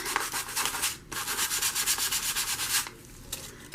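A junk journal name plate scuffed with sandpaper, close rhythmic rasping strokes in quick bursts, a brief pause after the first second, then a steady run of rubbing before it trails off.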